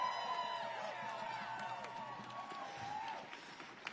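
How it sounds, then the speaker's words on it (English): A protest crowd outside CFPB headquarters cheers and whoops, a sustained roar of many voices, with scattered clapping and shouts that fade slightly toward the end. "Let's give a huge cheer for the CFPB"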